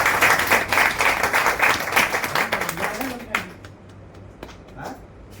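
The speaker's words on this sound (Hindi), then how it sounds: "वेरी गुड, एक बार जोरदार ताली बजाइए।" An audience at a Safe Shop direct-selling network marketing training session claps loudly together for about three seconds, then the applause fades and a voice takes over.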